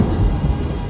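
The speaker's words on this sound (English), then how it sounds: "a great peal of thunder" A rumbling peal of thunder rolls through steady rain during a night storm, loud and continuous across the whole second with no voices.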